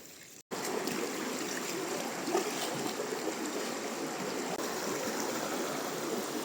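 A river flowing steadily beside a riverside camping spot, a constant broad rushing wash of water close by, with no voices.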